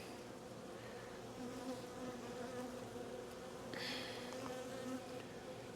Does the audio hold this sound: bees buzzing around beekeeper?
yes